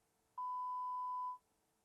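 A single steady electronic beep, loud and clean, holds for about a second against near silence, like a phone voicemail tone.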